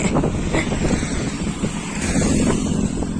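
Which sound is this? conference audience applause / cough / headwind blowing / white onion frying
headwind blowing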